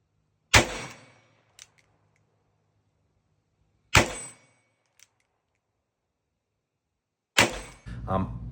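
Three sharp rifle reports from 7.62x38R hand loads with light 72-grain bullets, each a loud crack with a short decay, spaced a few seconds apart, with a faint distant tick after the first two that could be the impact on the target.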